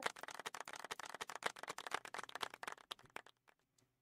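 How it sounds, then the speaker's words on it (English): Applause from a crowd in the farming game Farming Simulator 22, a dense burst of rapid clapping that holds steady for about three seconds, then thins to a few scattered claps and stops. "let's give Cavalier Roy a big round of applause"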